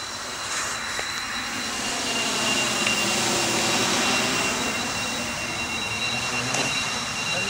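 Motors of an Oktokopter XL multirotor drone drone on in a steady, buzzing whine with a sweeping pitch shift as it passes, loud and close, with little talk.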